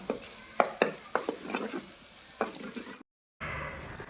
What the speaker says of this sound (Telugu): నూనె వేడి కాగానే వక్కలు వేసుకొని మంచిగా వేయించుకోవాలి